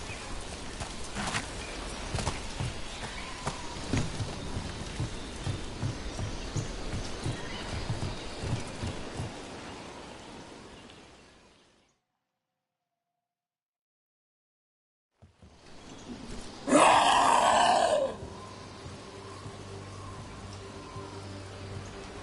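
Steady rain falls in a fantasy game world while horse hooves clip-clop nearby and a horse whinnies, the soundscape cutting to silence midway before resuming with a loud burst.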